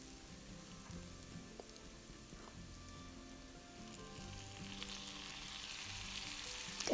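Green beans and tomatoes stir-frying in a pan give a steady, moderate sizzle with occasional stirring scrapes, heard alone and close by throughout.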